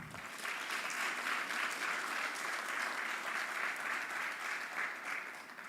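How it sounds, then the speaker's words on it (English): Audience at a career expo launch applauding steadily, a dense even wash of many hands clapping that holds at a moderate level for the whole stretch without any voices. "That deserves a hand clap,"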